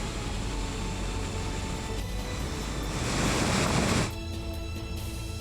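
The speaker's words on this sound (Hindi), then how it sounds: "तेजी के साथ पानी का बहाव नजर आ रहा है" Fast-flowing floodwater rushes in Tonk, Rajasthan, a loud, continuous roar of churning water that swells briefly before easing, with no voices.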